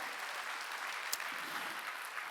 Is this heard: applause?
yes